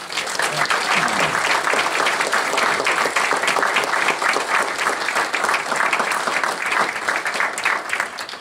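An audience at a town gathering applauds, a dense, steady wash of many hands clapping that carries on for over eight seconds without pause.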